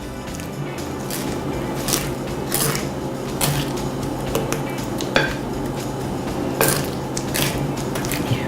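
A perforated spoon scrapes and clanks against a bowl while orange cookie dough is mixed with sugar and egg, repeated close-up knocks and scrapes in an irregular stirring rhythm.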